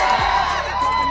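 Audience at a live Kannada stage show cheering and whooping, a brief loud burst of crowd shouts and raised voices with a rising yell near the start.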